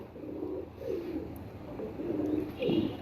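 A female pigeon coos several times in soft, low, rounded phrases, close by and alone against a quiet background.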